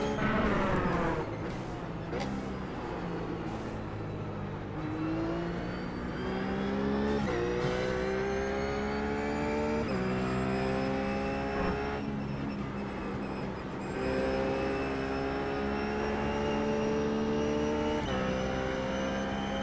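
A RUF GT3 race car engine in iRacing at the Nurburgring Grand Prix circuit, revving up steadily through the gears with sharp shift drops, loud and close from the cockpit, with brief clicks at the start.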